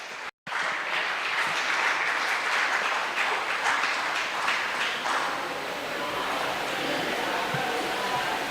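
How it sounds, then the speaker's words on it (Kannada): Audience applauding a contestant's arrival on stage at a Hyderabad devotional singing competition, a sustained wash of clapping after a brief dropout at the start, easing slightly toward the end. "ಎಲ್ಲರೂ ಚಪ್ಪಾಳೆ ತಟ್ಟೆ ಆಹ್ವಾನ ಮಾಡಿ"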